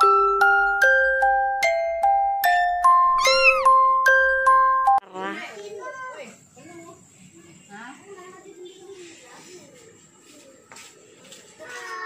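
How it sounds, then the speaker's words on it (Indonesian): Street cats meow and yowl in a squabble, several rising and falling cries near the recording phone, following a loud jingling ringtone-like melody at the start. "Jadi aku mau videoin kucing berantem lagi"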